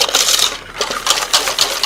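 Egg yolks whisked with sugar in a bowl make a rapid, bright clinking and scraping of a metal whisk against the bowl, loud and close in quick rhythmic bursts.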